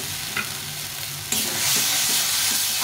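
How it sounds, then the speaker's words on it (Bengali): Fried potatoes stirred into a tomato spice masala for a rohu fish curry: a steady sizzle jumps to a louder, brighter hiss partway through, with soft stirring scrapes beneath. "আলুটা দিয়ে একটু কষিয়ে নিই।"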